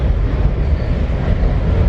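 A metro train at Foggy Bottom station gives a steady, loud low rumble, continuous and close, with no speech.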